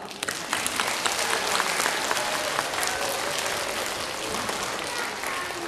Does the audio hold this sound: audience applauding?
yes